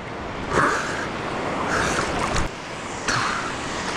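Big ocean waves roll and surge at sea off Palawan during ultralight casting, loud rushing swells breaking in a few heavy bursts over constant wind buffeting the microphone.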